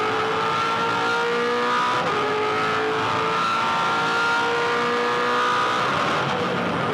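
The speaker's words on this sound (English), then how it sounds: "Just on the rev limiter in 5th before he slams on the brakes for this hairpin left hand at 50 kilometres an hour." A 2007 V8 Supercar engine buzzes hard against the rev limiter in fifth gear on the Tasmania circuit, a loud, steady high-pitched race-car wail heard alone without speech.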